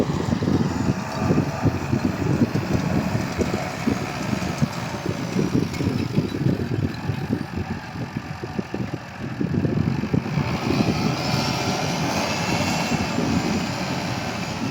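A heavy tractor engine drones steadily and loudly with a coarse low rumble throughout as it pulls a seeder sowing barley in a field, with no voices.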